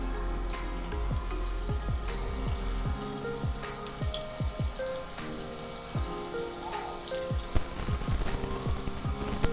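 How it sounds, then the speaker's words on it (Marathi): Chilli cheese popcorn bites fry in hot oil in a kadhai over low to medium gas, giving a continuous sizzle dotted with sharp pops and crackles, fairly close and with no voices. "हे बघा छान सोनेरी रंग येईपर्यंत आपण तळून घेऊया लो ते मिडियम गॅसवरती छान खरपूस होईपर्यंत आपण तळून घेऊया"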